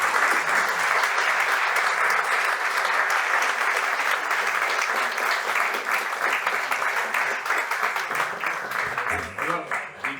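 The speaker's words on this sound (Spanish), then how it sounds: "Primero un aplauso" A lecture audience applauds steadily for about ten seconds, with dense, sustained clapping filling a hall for a talk on Vitoria's picture-postcard bars, holding strong and loud before thinning slightly toward the end.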